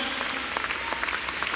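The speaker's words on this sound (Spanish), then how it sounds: "vamos a dar un aplauso al Señor" Congregation applauding during an evening church service, a steady wash of clapping filling the room at moderate level, with a few sharper claps standing out.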